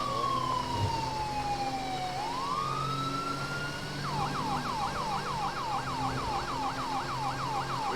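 An LAPD-style police siren on a 2018 Dodge Charger police car in GTA 5 sounds loud and close: a long falling-and-rising wail, then a rapid repeating yelp that continues to the end.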